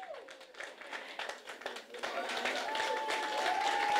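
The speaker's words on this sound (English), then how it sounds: "Round of applause." A round of applause breaks out after a cake is cut to celebrate a company's first agent banking facility, with scattered clapping that swells into sustained, fuller clapping from a small crowd, joined by a whistle-like tone.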